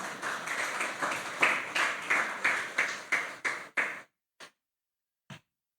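A church congregation clapping in unison as an offering of praise, a loud rhythmic burst of about ten claps at a steady pulse, then the clapping stops with a couple of isolated late claps.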